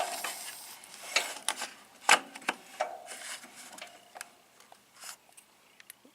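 A 16 or 18 hp Briggs and Stratton opposed twin engine, head off for a gasket job, is turned backwards by hand. It gives quiet, irregular mechanical ticks and clicks with small gaps between them.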